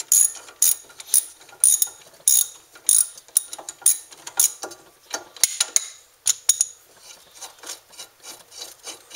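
Ratchet wrench clicking rapidly as brake caliper bolts are backed out on a Ford Focus, with bursts of close, sharp ratcheting separated by brief pauses, no talking.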